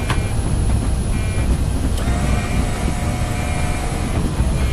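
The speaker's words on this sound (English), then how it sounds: "All right, let's get the gear down." Loud, steady broadband roar of an airliner on approach to Amsterdam as its landing gear is lowered, with a dull thump partway through and a high whine over the continuous rumble.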